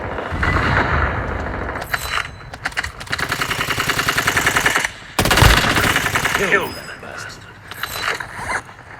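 Rapid automatic gunfire from the mobile shooter Warzone Mobile, loud and close, with sustained bursts broken by short pauses and a heavier blast in the middle, mechanical clicks between volleys.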